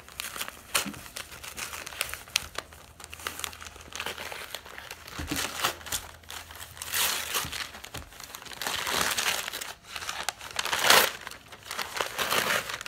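Wrapping on a package of replica dinosaur claw and tooth castings is crinkled and torn open up close, a steady run of crackling and ripping bursts that swell louder toward the end.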